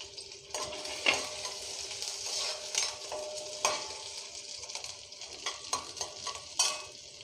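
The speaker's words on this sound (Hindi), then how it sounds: "लहसुन डाल दिए हैं," Finely chopped ginger and garlic frying in oil with green chilies and urad dal in a pan, a bright continuous sizzle broken by repeated stirring scrapes, close and moderately quiet.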